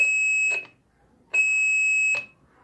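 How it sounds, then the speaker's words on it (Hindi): Two long, steady electronic buzzer tones from an intercom alarm, each lasting under a second, separated by a short pause, loud and close with little else around them. "मैं जैसे ही यहाँ पे बंद करता हूँ तो अलार्म बजेगा"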